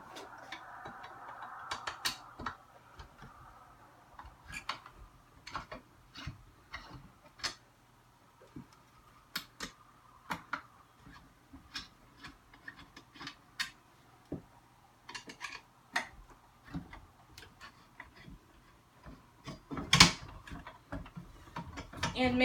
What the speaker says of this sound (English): now this part, you just need to take off these 4 screws